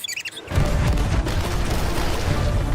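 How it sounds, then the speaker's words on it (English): Ship cannons fire in the pirate video game Sea of Thieves, opening with a short tonal sound and then breaking into a loud, sustained barrage of booming blasts that roll on without a pause. "I believe that now is the perfect time to use these cannons"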